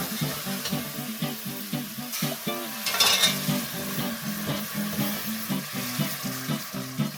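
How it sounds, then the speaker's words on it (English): A spoon works court bouillon into a saffron chard sauce in a pan, giving a steady rhythmic scraping and stirring that runs throughout over a low simmer, close and moderately loud. "Stir until the sauce loosens and begins to take shape."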